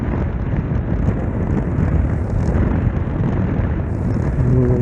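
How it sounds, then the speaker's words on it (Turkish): Heavy, roaring wind buffeting the microphone on a moving motorcycle, a constant low rumble with gusty surges throughout. "Rüzgar nasıl öyle sallıyor."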